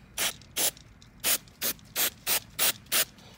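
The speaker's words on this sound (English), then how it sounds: "and just kind of lightly spray it." CRC cleaner is sprayed onto the slide of a mud-covered airsoft gun in eight short, sharp hissing bursts at a fairly even rhythm, each about a quarter second, close and loud with quiet between.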